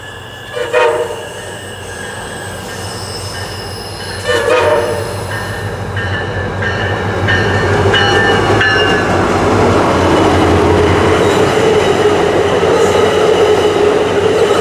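A MARC commuter train, P858, rolls through on Track 2 with a steady, building rumble of wheels and rail noise, punctuated by two loud horn blasts early on before the passing cars drone on.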